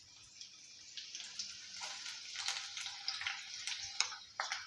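Onion, cardamom, fennel and cinnamon fry in hot oil, giving a faint, crackly sizzle with scattered pops and spatters that grow busier toward the end, close and alone.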